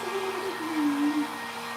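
A handheld dryer blows over bronze bells to dry a patina, a steady close whirring hum with a slight wavering whine lasting the whole moment.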